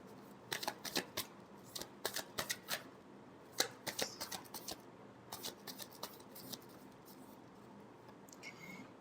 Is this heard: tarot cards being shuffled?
yes